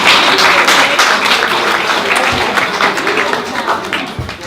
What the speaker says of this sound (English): can you all give them a nice round of applause?